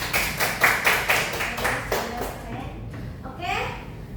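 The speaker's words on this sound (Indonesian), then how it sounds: "Oke, boleh tepuk tangan untuk Dea." Classroom of students clapping for a classmate in rhythmic bursts, close and moderately loud, thinning out as children's voices and chatter take over toward the end.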